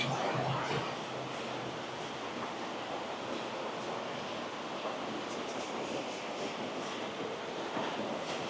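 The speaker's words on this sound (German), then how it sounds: "als auch hier einen Wasserfall" Steady broadband rushing of a waterfall beneath a road, continuous and fairly close, with a hollow, enclosed wash and no distinct events.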